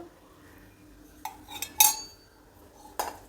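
A few sharp metallic clinks ring out as a lid is set over a pan while a veg omelette cooks. The clinks are close but fairly quiet and come at uneven intervals against a soft kitchen background.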